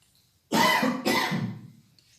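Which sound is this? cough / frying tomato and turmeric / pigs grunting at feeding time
cough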